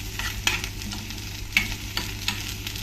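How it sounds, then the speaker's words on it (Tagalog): Onion and garlic frying in oil in a pan for ginisang sayote, stirred with a utensil, giving a low steady sizzle broken by a few sharp scraping clinks, close and fairly quiet. "Haluin lang natin."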